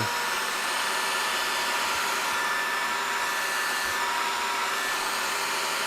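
A CNC milling machine cuts a metal part for a sculpture, taking slow, conservative passes with a continuous dense whirring roar at a steady level and a faint high tone, with occasional soft thumps and no talk.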